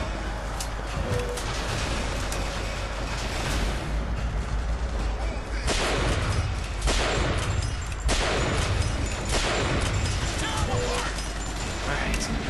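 Gunfire in the video game Bioshock Infinite, a dense continuous clatter of shots and bursts over constant loud noise, with a few heavier cracks standing out from the din.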